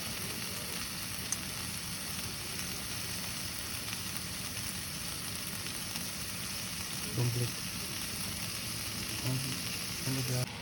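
Chicken frying with masala in a pan inside a toto e-rickshaw on a rainy day, a steady close sizzle broken by a few stirring knocks and scrapes.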